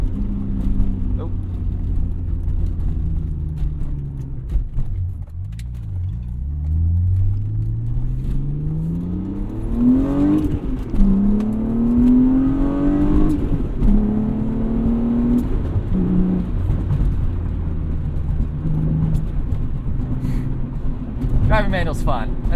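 Manual-transmission car accelerating through gears, engine note climbing in rising sweeps then dropping at each shift near 6,000 rpm, heard from inside the car under steady cabin rumble with some talking.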